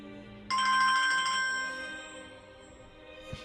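A Samsung Galaxy S2 mobile phone ringtone bursts in with a bright, chiming melody, loud and close, then fades before a short knock near the end.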